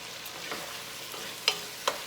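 A spoon stirs a stew of beef, red beans and narrow bones in a pot, making a soft, faint scraping swish over a low background, with two brief clinks near the end.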